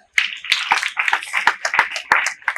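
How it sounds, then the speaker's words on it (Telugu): Loud, sharp hand claps ring out close by in an irregular series, about eight strikes in under three seconds during a group yoga session at a goshala, with a faint murmur of other sounds between them. "గట్టి క్లాప్ కొట్టాలి."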